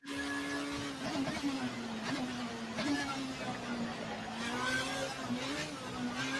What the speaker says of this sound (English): we got another group of cars coming up